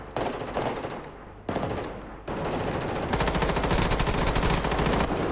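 Gunfire in a Roblox shooter game with realistic weapon mods: two short separate bursts followed by a sustained rapid automatic volley, loud and close with no talking.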